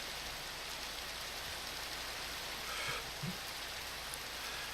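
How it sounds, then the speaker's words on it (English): Steady, even rain hiss in a modded game world, continuous and fairly soft throughout, with a couple of faint low thumps partway through and no speech. "now let me just come out the rain a second"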